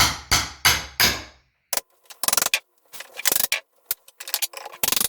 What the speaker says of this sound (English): I'll hammer that in and then use a regular pry bar the rest of the way.